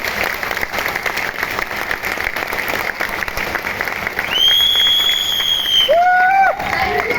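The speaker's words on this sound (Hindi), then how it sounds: "जिसको अच्छी लगी वो जरा हाथ ऊपर करके ताली बजा सकता है, ताली बजा सकता है हाथ ऊपर करके।" A training-session audience with raised hands breaks into dense, rapid applause for about four seconds. Bright electronic tones and whistle-like sweeps then ring out over the crowd noise.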